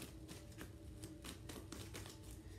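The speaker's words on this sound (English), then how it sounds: "1 second while I start to shuffle the next cards for the middle of your January." Tarot cards being shuffled by hand: a quiet, steady run of soft rapid taps and riffling clicks, close by, with no talking over it.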